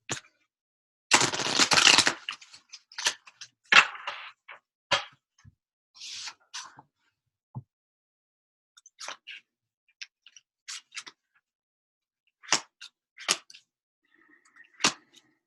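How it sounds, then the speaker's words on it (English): Large, sticky tarot cards shuffled close by: one dense riffling burst followed by scattered soft slaps, taps and flicks separated by near silence. "Cards are a lot stickier and larger, harder to shuffle."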